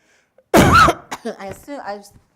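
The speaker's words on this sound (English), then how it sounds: "I'm going to cough a little bit." A single harsh cough followed by a few short throat-clearing rasps, close and loud.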